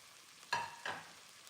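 Chopped tomatoes dropped into hot oil in a pan with crushed garlic for a curry, giving two quick, close sizzling bursts that fade out.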